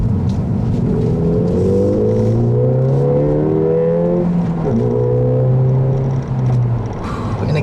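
A 2014 Ford Fiesta ST engine fed through its sound symposer rises in loud, smooth revs under acceleration, drops briefly at a gear change, then climbs again before easing off, close and continuous with no talk.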